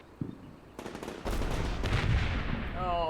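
Machine-gun bursts crackle in a war video game, with a few sharp shots and then dense, sustained rattling fire over a low rumble, fairly loud and close, alongside other battlefield noise.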